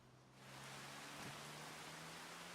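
Rain in the farming video game Farming Simulator 25 starts up as a broad, steady hiss of falling rain, faint and continuous, over a low machine hum.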